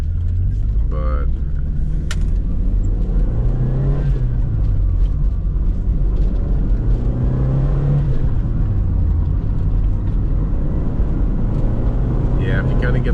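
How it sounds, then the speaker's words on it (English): Turbocharged engine of a 1987 Dodge Shelby Charger pulling under acceleration, a steady loud droning rumble from inside the car with someone talking over it throughout. "if you kind of get the turbo spooled and then just get in it a little bit, yeah, you really feel it punch."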